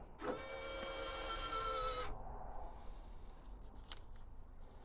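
A small electric motor on an Oka 251 truck rebuild runs for about two seconds with a steady whirring, harmonic-rich whine, then cuts off, leaving faint mechanical clicks and light movement nearby.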